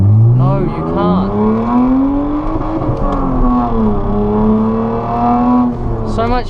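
A BMW E30 engine revs hard and climbs in pitch, then bounces repeatedly off the rev limiter in a loud, close, stuttering drone. Talk runs underneath.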